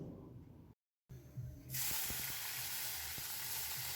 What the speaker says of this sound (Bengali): পেঁয়াজটাকে এখন তেলের মধ্যে সামান্য ভেজে নেব